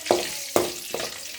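Cumin seeds fry in oil for upma, giving two or three sharp, close pops or taps over a light sizzle in a brief moment with no speech.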